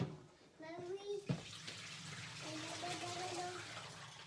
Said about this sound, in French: je veux égoutter mes pâtes